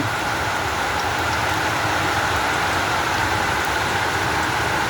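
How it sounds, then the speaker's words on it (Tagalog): Heavy rain pours down in a dense, unbroken hiss, loud and steady from start to finish with no voices, during outdoor cooking. "pasensya na po at malakas ang ulan dito sa aming lugar"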